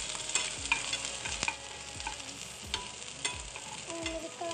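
Onions frying on a low flame in a pan for chilli paneer, with a steady sizzle under repeated scraping strokes of a spoon stirring them, close and alone without talk.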